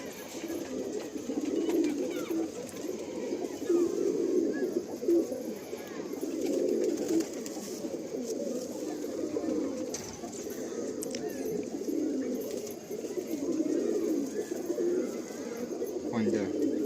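A male Andhra Kalanka pigeon and others coo in low, rolling, continuous rounds nearby, the cooing steady throughout, with faint voices in the background.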